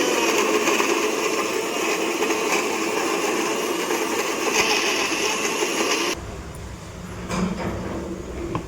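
An electric blender grinds red chillies into a paste in a home kitchen, a loud, steady motor whir with a harsh grinding edge that stops abruptly, leaving quieter kitchen sounds.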